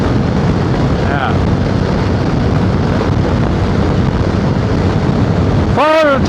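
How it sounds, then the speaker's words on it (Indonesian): Strong wind roars loud and steady across the microphone while riding a Suzuki V-Strom 250SX motorcycle along winding roads, with brief voices surfacing near the start and again near the end. "Kita meliuk-liuk, kencang banget deh anginnya"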